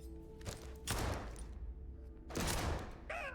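Gunfire rings out in a Starfield firefight, two separate bursts of rapid shots about a second and a half apart, fairly faint, with a short metallic chirp at the end.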